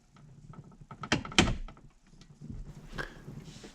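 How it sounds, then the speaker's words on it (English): A plastic trim tool prying out the center console of a Jeep WJ, a few sharp snapping pops of released fasteners amid scraping and creaking plastic, close and clear. "This is a plastic trim tool to pop out this console."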